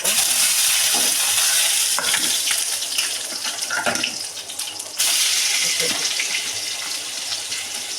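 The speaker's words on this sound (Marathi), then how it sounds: "तर हे आपली वांगी शिजत आहे" Stuffed eggplant fries in a pan with cumin and mustard seeds, a loud close sizzle and spatter with stirring clatter, breaking briefly and then resuming.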